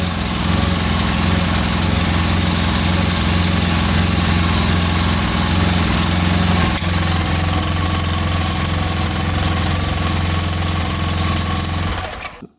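UTV engine idling after clutch work, running close and loud with a rough, steady mechanical drone and a slight knocking rattle for about twelve seconds before cutting off.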